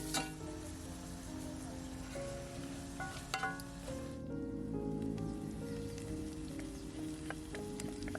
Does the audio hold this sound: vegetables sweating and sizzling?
yes